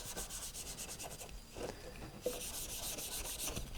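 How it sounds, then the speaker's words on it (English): A rough Scotch-Brite pad rubbing wood finish onto white oak, giving a soft, steady scrubbing swish in repeated back-and-forth strokes, close and quiet. "I apply it with these rough Scotch-Brite type pads."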